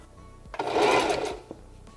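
A sewing machine stitches fabric in one short burst of a second or so, a close, fast mechanical whir rising and falling, with quiet clicks before and after.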